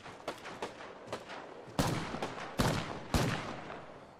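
Gunfire in Apex Legends, beginning with spaced single shots and building to heavier, louder blasts with lingering tails, close and prominent with no talking.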